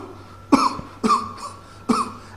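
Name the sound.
coughing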